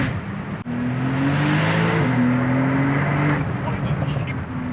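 A Brabus-tuned Porsche 992 Turbo S Cabriolet accelerating hard: a loud, rising engine drone heard from inside the car climbs steadily in pitch before leveling off, with a person talking over it.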